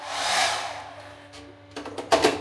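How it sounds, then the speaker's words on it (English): Hotel room hairdryer at a resort in Hurghada, Egypt, blowing with a steady airy whoosh that fades, followed by a few short bumps and clicks close by. "I guess a decent hairdryer,"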